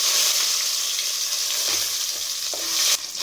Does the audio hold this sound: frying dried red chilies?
yes